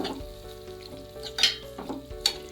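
Prawns cooking in a pan with spices and curry leaves, giving soft frying sizzle with occasional stirring scrapes and small spatters, moderately close and fairly quiet.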